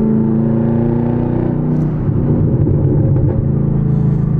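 Inside a 2023 Camaro ZL1 with mufflers removed, primary cats on and secondary cats off, the exhaust gives a loud, steady low drone in fifth gear in sports mode, swelling slightly under a little throttle, with no voices.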